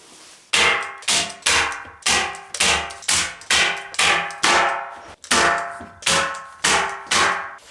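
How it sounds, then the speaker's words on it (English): A nail gun fires repeatedly along the edge of a vivarium panel, about a dozen sharp, loud bangs in an uneven rhythm, each followed by a brief decaying ring, with no voices. "then I'm going to nail along the edge with the nail gun"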